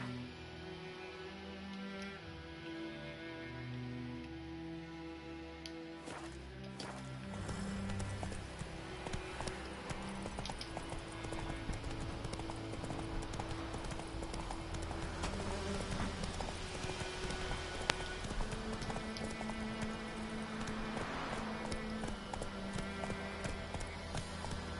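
In The Witcher III, a horse's hooves clip-clop in a steady running rhythm over game music and ambient background, fairly faint throughout.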